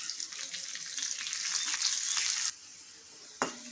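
Garlic and cumin seeds frying in a pan with green chillies, curry leaves and ginger for a radish dish, a loud close hiss that swells, then drops abruptly to a softer sizzle with one brief clatter near the end.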